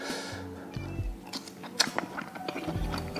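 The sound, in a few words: chewing crunchy green beans and tempeh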